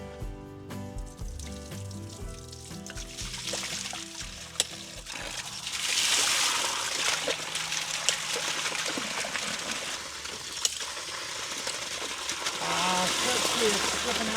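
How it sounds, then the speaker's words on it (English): Water starts running from a frost-free hydrant just after it is turned on, a steady hiss and splash that swells partway through and continues beside a person talking nearby. "let's go turn the water on and see what happens"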